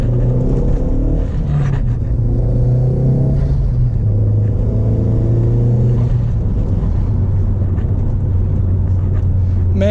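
A Mk1 Audi TT 225 on freshly fitted Bilstein B12 cup suspension rolls over a bumpy road, its engine a steady low rumble inside the cabin with dull thumps and rattles as the tyres hit uneven patches.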